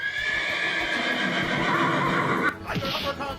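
A loud horse whinny rings out as a long, wavering neigh that ends with a shakier snort-like tail, close and prominent like a sound effect.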